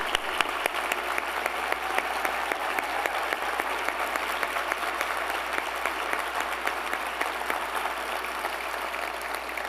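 A large audience at a mayor's State of the City address applauds honored teachers, a dense, steady roar of clapping that holds at full strength for about ten seconds with no speech over it.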